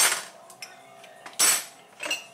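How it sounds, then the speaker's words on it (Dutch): Metal spoons clink and rattle against one another as they are lifted out of a kitchen dish rack full of washed dishes, giving a few short, bright, close clatters with quieter gaps between. "Dan ga ik even maar ook even lepeltjes eruit halen."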